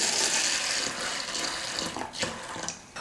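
Water pours steadily into a vessel holding soaking masoor dal, a continuous splashing stream that tapers off with a few small trickles and drips near the end.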